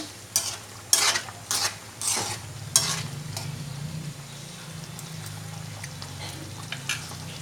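A spoon stirs chicken and oyster sauce in a hot pan, with several sharp scraping clatters at first and then a steady low sizzle, close and without speech.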